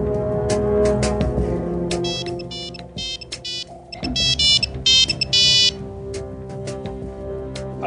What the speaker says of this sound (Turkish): Özlem, akşam Timur'u telefonla arar.